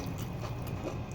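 Duck egg curry being eaten at home, close soft chewing and biting sounds in a steady muffled rhythm, quiet and continuous with no talking.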